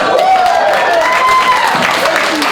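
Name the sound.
audience applauding VP candidates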